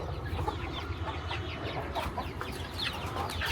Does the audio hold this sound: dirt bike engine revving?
no